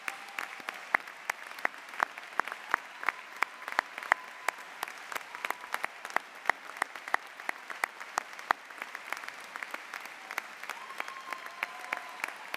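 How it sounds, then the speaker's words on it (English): At a law school commencement, a sparse audience applauds standing military members, first responders and nurses, with distinct individual claps ringing out irregularly in a large hall for a long, steady stretch. "could you please stand and get a round of applause of appreciation from all your citizens"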